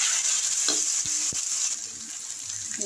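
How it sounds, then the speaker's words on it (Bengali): Chicken with turmeric and coriander powder stir-frying in oil, a constant sizzle broken by a few sharp spatula knocks and scrapes against the pan. "হলুদ গুঁড়ো, ধনের গুঁড়ো সব আমি অল্প অল্পই নিয়েছি। এগুলো এখন সবগুলো দিয়ে দেবো। দিয়ে আমি এটাকে এখন কষাই।"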